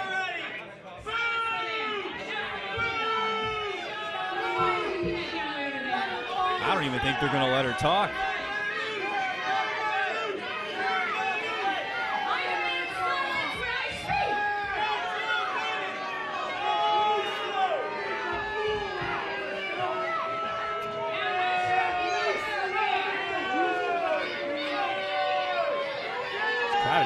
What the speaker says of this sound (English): The crowd is so loud you can barely hear her.